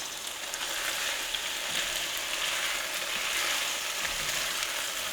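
Gnocchi browning in a hot pan, a steady, moderate sizzle and crackle of frying that continues evenly, close by and with no voices.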